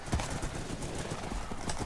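Horse hooves clip-clop steadily throughout a Minecraft Hypixel horse race minigame, with faint neighing mixed into a busy, dense game soundscape.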